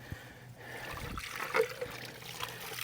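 Running water rinses dirt out of a pool cyclone filter, a steady splashing trickle and flow that is moderately loud and close, with no speech.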